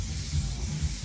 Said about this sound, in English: rather than going straight in and spraying it immediately into the hair, what we're going to do is we're going to cascade it down.